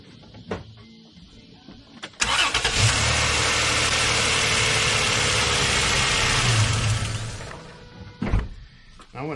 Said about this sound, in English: Start engine.